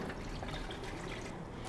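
Water poured steadily into a pot holding two medium-sized goat trotters for paya, a soft continuous splashing that stays even and close for the whole short stretch with no pauses.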